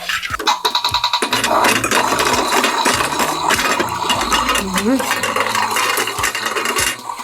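Vegetables sizzle in a hot pan as a utensil scrapes and clinks against the metal, a steady close frying hiss throughout.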